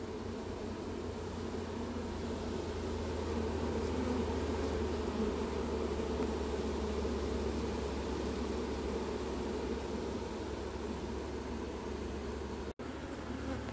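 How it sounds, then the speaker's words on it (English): A honeybee swarm buzzes in a dense, steady hum, with many bees rushing together as they move into a box, sustained and close for over ten seconds with no talking. "This pile of bees is just rushing inside."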